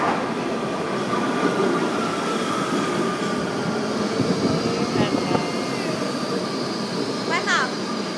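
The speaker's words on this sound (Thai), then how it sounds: "รถไฟกำลังมา" A passenger train pulls into a station platform with a steady rumbling rush of wheels and carriages, brief squeals near the end, while people talk nearby.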